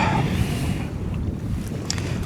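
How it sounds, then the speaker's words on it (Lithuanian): Wind gusts steadily at the edge of the Karūžiškės II fishing pond, producing a constant, loud rumbling roar of buffeting against the microphone that fills the whole stretch with no one speaking. "Vėjas didesnis."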